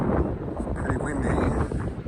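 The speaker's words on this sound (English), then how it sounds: "Pretty windy." Gusty wind buffets the microphone outdoors by a dam, a rough, low rumble that rises and falls through the short stretch.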